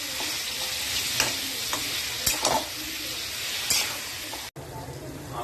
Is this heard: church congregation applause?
no